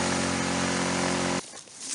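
A Tohatsu outboard boat motor drones loudly and steadily at close range with a harsh, buzzing tone, then cuts off abruptly, leaving faint rustling and ambient noise.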